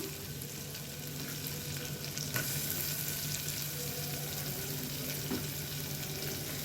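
Onions sauté in a pan for vegetable kurma, a continuous low frying hiss with a couple of faint stirring taps, moderately quiet and steady throughout.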